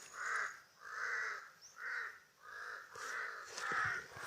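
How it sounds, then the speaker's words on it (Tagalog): Crows caw repeatedly outdoors, about six harsh drawn-out calls in an uneven rhythm, moderately distant and fairly faint, with no talking. "Kanina pa tayo sinusundan ng mga uwak na yan."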